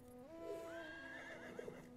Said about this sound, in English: The horse was going wild.